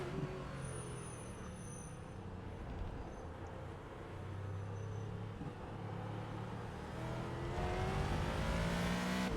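A Ford GT2 race car's engine drones through the opening laps at Spa in the iRacing sim, a continuous loud roar with rising and falling revs as it shifts, heard alone.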